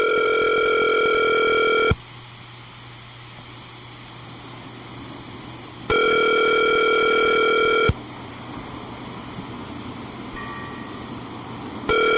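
A telephone line rings in two long, steady, loud tones separated by quieter line hiss, repeating before a voicemail greeting.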